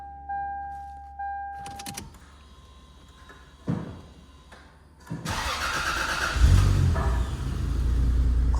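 A Lexus GS 300 with a 2JZ engine swap cold-starts: a few chimes and clicks, then the starter cranks briefly and the engine catches and settles into a loud, close, steady rumble.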